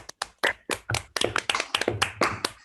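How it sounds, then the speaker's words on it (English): An online audience applauds after a lecture on coevolving genes and species, scattered unmuted claps arriving unevenly, some sharp and near, others faint, as a loose irregular round rather than a dense ovation. "let me make sure people can unmute themselves in a round of applause for Amare's lectures"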